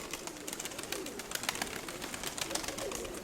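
Pigeons in a loft give soft, low cooing under a constant busy bed of flapping, shuffling and scratching, fairly faint and close.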